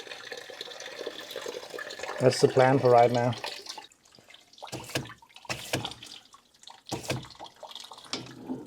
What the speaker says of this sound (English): I'm just flushing until clean water comes out of all jackets